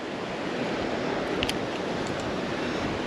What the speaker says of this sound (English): This wind is absolutely brutal.